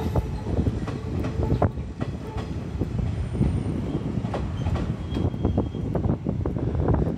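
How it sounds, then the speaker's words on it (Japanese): A Nishitetsu train pulls into Futsukaichi station with a steady, heavy rumble, rhythmic wheel clacks and a faint high squeal, loud and continuous throughout with no voices. "今ちょうどいい電車が来てる"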